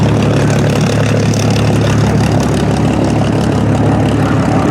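Honduran Corsair warbird at the Duxford Flying Legends air show, its piston propeller engine droning loud and steady at close range throughout, no voices.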